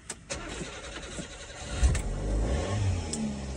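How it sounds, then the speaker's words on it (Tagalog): A car parked in the snow cranks and starts, then its engine settles into a steady, loud idle as it warms up, close by with no voices. "Initin ko lang saglit yung sasakyan."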